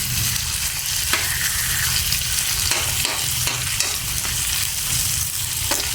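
Eel fries in a pan with a dense, continuous sizzle, broken by a few sharp stirring scrapes. The sound is close and loud, with a low hum underneath and no talk.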